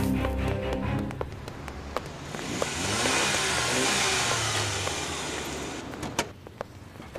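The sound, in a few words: taxi car arriving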